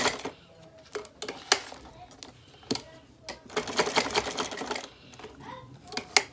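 A sewing machine stitches elastic into homemade legging fabric in quick, uneven bursts of rapid mechanical clatter, close by, with short pauses between runs and a voice talking in between.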